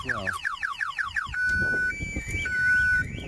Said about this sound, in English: it's also got an internal siren